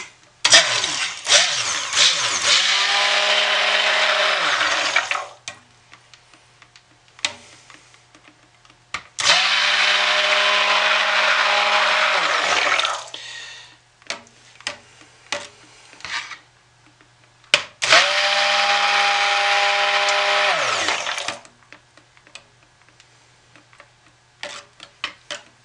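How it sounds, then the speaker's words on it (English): A stick blender whirs through soap batter in three loud bursts of about four seconds each, separated by quiet gaps that hold soft taps and clicks and a low electrical hum. "burp the stick blender"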